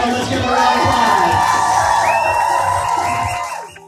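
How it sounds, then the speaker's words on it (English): Fitness club crowd cheering and whooping to celebrate a member's thousandth workout, a loud sustained swell of shouting voices with a few claps that holds for three seconds and then fades out. "Let's give a round of applause."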